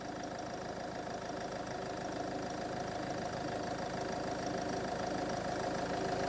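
Land Rover Freelander 2 engine idling steadily during a charging test, a close, continuous mechanical hum with a faint rhythmic knock and vibration, constant in level throughout with no talking.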